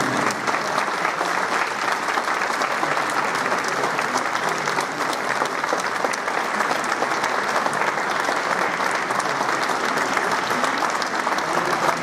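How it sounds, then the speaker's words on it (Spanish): A standing audience at a tribute event applauds a documentary maker. The clapping is dense and continuous and holds at an even, full level for the whole stretch. "Nos pongamos de pie y le demos un gran aplauso a Manuel por su magnífica labor en el mismo."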